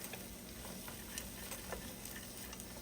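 Vegetables for cheeseburger soup sauté in a pot, a faint, even hiss of sizzling with scattered light ticks and clicks, no voices.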